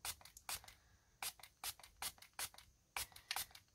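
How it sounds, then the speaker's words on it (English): A series of short, quiet hissing bursts of alcohol sprayed onto shoes in an uneven rhythm, close up, with light rubbing between them and no talking. "So what I like to do is I like to spray kind of one section at a time"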